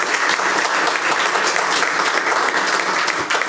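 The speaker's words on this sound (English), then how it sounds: "if we just give them one more round of applause" An audience at a school board meeting gives a loud round of applause, a thick, steady wash of many hands clapping close by throughout, with no speech.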